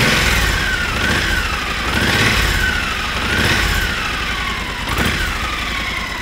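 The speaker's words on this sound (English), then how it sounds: "I'm going to just give this a little bit of a rev so you can hear the pipes a little bit" A 2014 Triumph Thunderbird LT motorcycle with stock exhaust pipes revs in a few repeated swells, its loud engine note rising and falling rhythmically close by.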